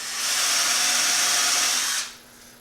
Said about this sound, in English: we're just going to run 4 screws in to hold this down